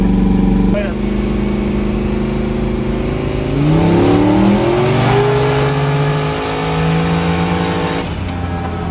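An LS-swapped Chevrolet S10 truck engine is revved at full throttle. A loud, close roar climbs steadily in pitch over several seconds, holds high, then cuts off sharply. Voices can be heard around it.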